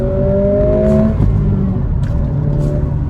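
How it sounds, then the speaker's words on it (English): A 2023 Acura Integra A-Spec with manual gearbox drops into second gear: engine tone holds, dips sharply at the shift, then rises again as the car accelerates, loud from inside the cabin. "you can always just downshift it right back down into second"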